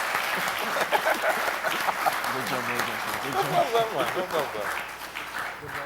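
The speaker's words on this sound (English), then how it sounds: "let us show them some love by giving them a really lusty round of applause" A crowd at a debate gives a sustained round of applause for four debaters, steady dense clapping mixed with voices and chatter that continue throughout, tapering slightly at the end.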